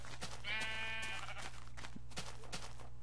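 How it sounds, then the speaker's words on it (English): Sheep bleat repeatedly in the Minecraft video game, several wavering cries in quick succession, moderately close and fairly quiet. "now I got sheep baying at me rudely"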